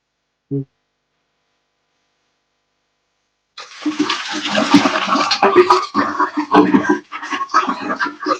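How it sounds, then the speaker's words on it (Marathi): Water pours into a tank for making Gokrupa Amrut culture, starting after a short knock and silence as a steady, rushing, splashing flow close by, with no talking. "आता ही टाकी पूर्ण भरून घ्यायची"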